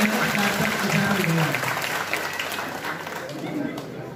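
Applause for students at a Hindi-language public gathering, a broad, steady wash of clapping with a voice heard beneath it early on, gradually easing in loudness.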